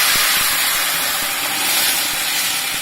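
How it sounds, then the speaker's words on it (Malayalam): Marinated cauliflower goes into a hot pan with curry leaves and green chillies and sizzles loudly. An even, close hiss runs throughout, with faint low knocks from the pan underneath. "ഇനി നമുക്ക് മാഗ്നേറ്റ് ചെയ്ത് വെച്ചിരിക്കുന്ന കോളിഫ്ലവർ ഇടാം."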